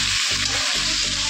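Chicken frying in hot oil gives a loud, close, continuous sizzle with a couple of brief stirring dips, and no voices.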